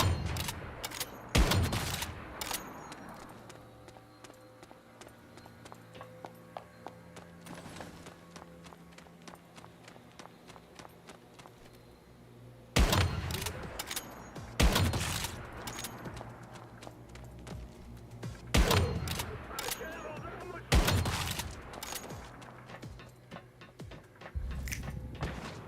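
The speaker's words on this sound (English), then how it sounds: "Who's shooting?" Bursts of gunfire in the survival shooter Once Human, volleys of sharp shots a few seconds apart, loud and close, with quieter stretches of background game sound between them.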